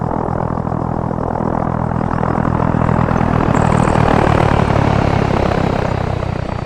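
A transport plane in Arma 3, carrying a tank destroyer, roars with a loud, dense, continuous propeller-engine drone that holds steady and close throughout, with no talk.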